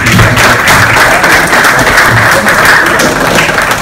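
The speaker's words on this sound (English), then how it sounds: "give him a round of applause" A dense, loud round of audience applause honours Mr. Samba at an awards ceremony for his corporate career award, sustained evenly from start to finish.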